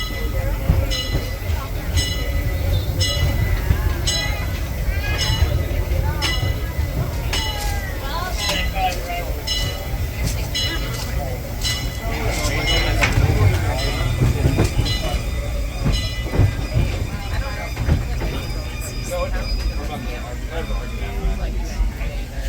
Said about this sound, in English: Please remain seated until the train comes to a full and complete stop.